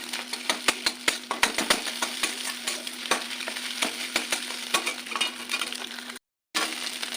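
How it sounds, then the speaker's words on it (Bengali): Egg frying in oil for egg tadka while being broken up with a spatula, steady sizzle punctuated by frequent sharp metallic scrapes and clinks against the pan, close and continuous with a brief dropout. "ডিমটা ভাজা হচ্ছে"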